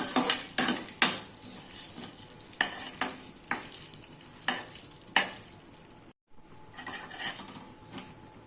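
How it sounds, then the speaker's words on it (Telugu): Urad dal, cumin and dry red chilies fried in a pan: sharp, regular clinks of a spoon against the pan over a continuous bright sizzle, with a brief dropout near the end. "కొంచెం మినప్పప్పు, కొంచెం జీలకర్ర, ఎండుమిర్చి బాగా ఫ్రై చేసుకోవాలి."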